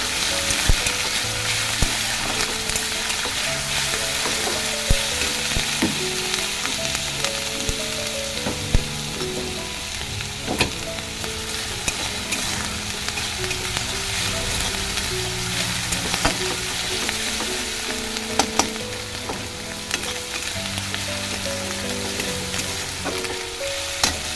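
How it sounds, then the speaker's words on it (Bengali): Onions frying in a pan with chili powder, turmeric and salt as garlic paste goes in: a steady, close sizzle runs throughout, broken by frequent scraping and clinking stir strokes, with no talking. "এখানে যে পেঁয়াজটা ভাজতে দিয়েছি দিয়ে দিচ্ছি এখন রসুন রসুন বাটা"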